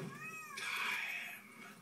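A cat lets out a single drawn-out meow, close and fairly loud, with no one talking.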